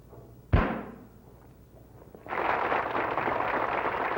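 A single sharp gunshot rings out for an exhibition trick shot aimed at splitting a bullet on a knife blade to snuff out two birthday candles, followed by a fading rumble and then a steady broad wash of noise like applause or crowd sound.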